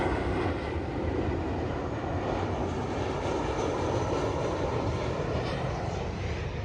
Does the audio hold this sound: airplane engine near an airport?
yes